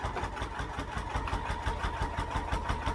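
A sewing machine top stitching along each side of a fabric wallet, its motor running in a steady, rapid mechanical chatter with even pulses throughout, close and continuous with no talking.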